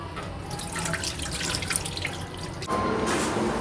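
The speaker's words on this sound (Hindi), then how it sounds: "इसको पानी फेंक दो।" Rinse water is tipped out of a container of pasta, making a continuous splashing pour that shifts in tone partway through, with no talking.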